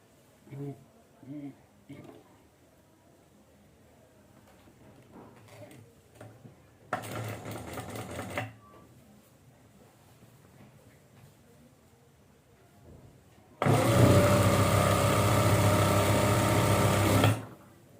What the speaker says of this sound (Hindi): और अब मैं यहाँ से सिलाई लगाना स्टार्ट करूंगी